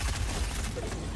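Rapid gunfire from an enemy player in Fortnite, aimed at the player while he is in the water: a dense, loud burst of shots with heavy low rumble, running continuously without speech.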